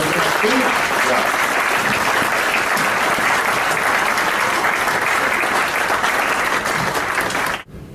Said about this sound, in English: I want an applause for these young people, the next generation who are going to do that.